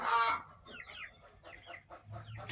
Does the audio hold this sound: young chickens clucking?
yes